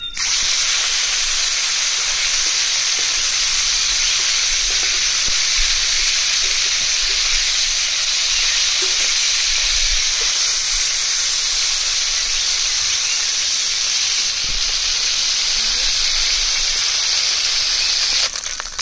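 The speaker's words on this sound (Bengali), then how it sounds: "এবার পুঁটি মাছ আর কাঁকড়া দিয়ে দেবো।" Small puti fish and crab frying in hot oil with a pinch of salt, a loud, steady, dense sizzling hiss that holds unbroken from start to end.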